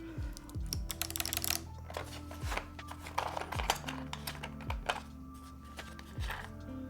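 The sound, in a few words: typing on a clicky mechanical keyboard build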